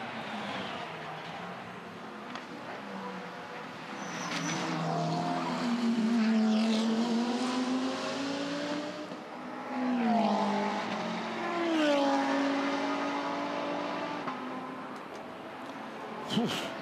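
Race cars roar past at the Liqui Moly Bathurst 12 Hour endurance race, engines rising and falling in pitch as they pass and shift, heard as a loud continuous drone with a commentator talking over it.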